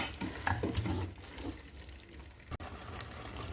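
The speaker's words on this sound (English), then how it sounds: "now I'm going to be adding some water" Water splashes and pours into a cooking pot of meat for groundnut soup, a gurgling, bubbly stream close up that fades after a couple of seconds before a sharp knock.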